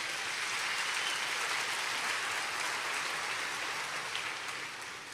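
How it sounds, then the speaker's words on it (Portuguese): A church congregation applauds in a steady, dense wash of clapping that holds evenly for several seconds before easing off slightly at the end. "Você pode dar um aplauso a Jesus por isso?"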